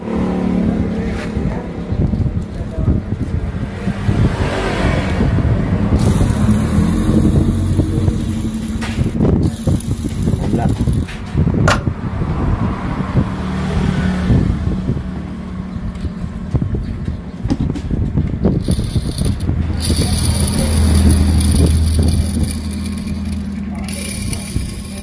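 A motorcycle engine idles and revs up close, with a rough mechanical rattle and grinding from a worn side bearing under the motor noise, pitch rising and falling with the throttle.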